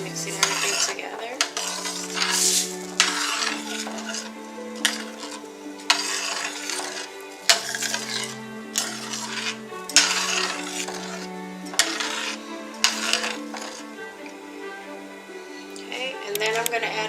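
Tomato sauce is stirred into rice in a cooking pot for Mexican rice, with repeated scraping and clinking of a spoon against the pot and a faint sizzle, heard under a voice and background music.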